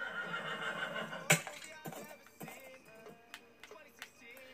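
A Minecraft horse whinnies once in a sharp, fairly close neigh, followed by a few soft clopping hoof taps and quieter game sounds.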